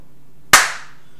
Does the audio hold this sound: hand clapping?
yes